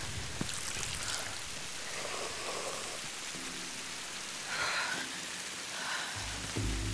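Steady rain pours down in a constant hiss in the video game Tomb Raider, with faint low tones and rumbles drifting underneath, no voices.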